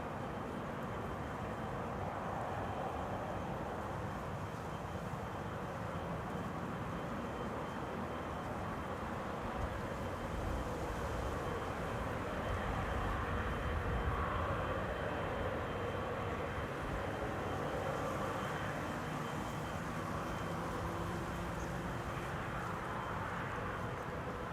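Qatar Airways Boeing 777-300 arriving at Schiphol on the Kaagbaan runway, a steady distant jet roar that swells gently in the middle and fades slightly, with no voices.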